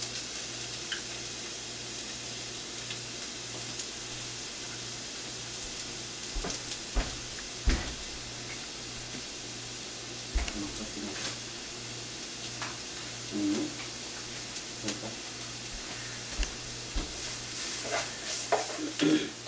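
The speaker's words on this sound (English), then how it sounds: "So I've been sauteing this onion for about 5 to 10 minutes." Finely chopped onion in a few tablespoons of oil cooks down in a pan for a Goan fish curry, a soft continuous sizzle with occasional utensil knocks and scrapes scattered throughout.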